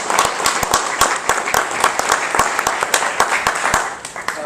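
An audience at a Lions Club talk applauds, with dense, continuous clapping from many hands at moderate volume throughout, and no voices over it.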